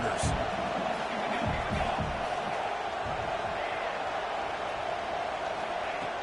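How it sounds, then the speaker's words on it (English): A dense, steady roar from a packed stadium crowd at a college football game, Houston against UC, continuous and fairly distant, with faint voices mixed into the wash. "Listen to the crowd energy here in the early going."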